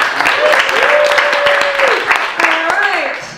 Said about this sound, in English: yourselves a big round of applause for coming out tonight